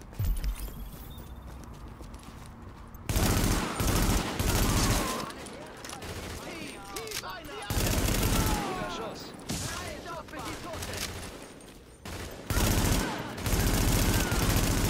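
Bursts of automatic gunfire from the video game The Division, loud rapid volleys in several separate bursts with quieter gaps between, mixed with game effects and voices talking.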